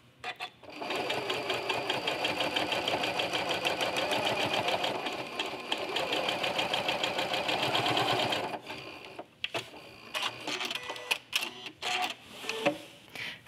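A sewing machine with a walking foot stitches curves across a quilt top, running in a fast steady whir for several seconds, then stopping and restarting in short bursts with clicks and handling noises.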